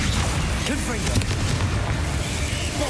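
A Confringo spell explosion in Hogwarts Legacy, a loud sustained blast with deep rumbling low end and crackling debris, continuing for a few seconds with faint whooshing streaks mixed in.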